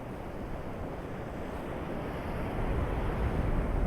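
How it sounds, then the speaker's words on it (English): Big ocean waves breaking on a winter shore near Montrose, Dundee or Johnshaven in Scotland, a steady loud roar of surf with wind buffeting the microphone, swelling slightly toward the end, no talking. "Got some big old waves out there today though,"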